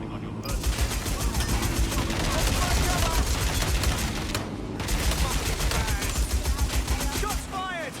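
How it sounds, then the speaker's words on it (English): Sustained automatic gunfire rattles through a tense firefight in the video game Watch Dogs Legion, loud and continuous with rapid bursts and brief pauses, while voices shout over it. "Shots fired!"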